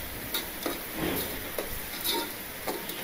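Curry leaves sautéed with tomatoes in a pan for vegetable kichadi, giving a steady close sizzle with stirring scrapes and soft ticks from the spoon against the pan.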